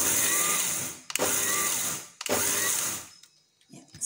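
A mixer grinder coarsely grinds dry prawns into powder in three loud whirring bursts of about a second each, with brief pauses between them and faint clatter after it stops.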